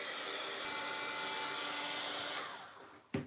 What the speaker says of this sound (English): I'm going to use my Sizzix heat tool on 2